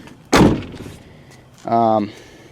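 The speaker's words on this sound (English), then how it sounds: "Shut this door." A Ford truck door shuts with one loud, close thump, followed by a brief tonal hum from the vehicle.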